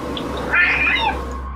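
A cat meows in a drawn-out, wavering cry that rises and falls, close and fairly loud over a low steady background hum, sounding curious and uneasy.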